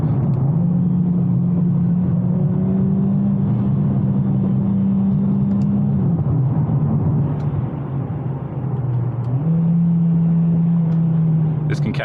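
A Mercedes CLA45 AMG engine drones at high revs under full load, holding a steady tone, dropping briefly as the gear shifts, then climbing and holding again, loud and continuous from inside the car.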